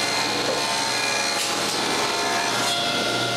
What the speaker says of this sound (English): so I move the fence and widen the groove